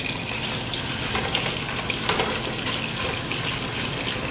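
Fatback frying in bacon grease, a dense, steady crackle and hiss close by that holds at an even level throughout with no voices.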